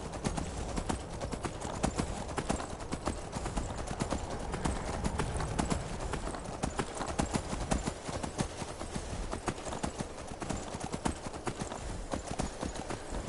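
Horse hooves clip-clop in a quick, steady gallop rhythm in the video game Skyrim VR, continuous and fairly loud over a busy background of rustling noise.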